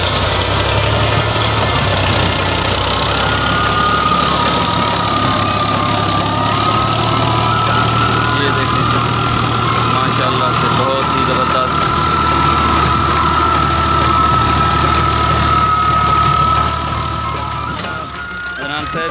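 An old Fiat 480 farm tractor idles with a steady, rumbling diesel drone close by. It runs evenly for most of the time, then eases off near the end.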